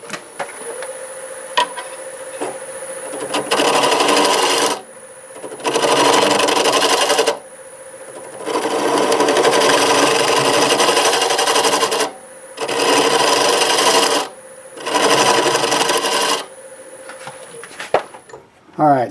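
A wood lathe turns a burl while a tool takes light cuts off it, giving several loud bursts of scraping and rasping between quieter spinning, with a voice faintly present.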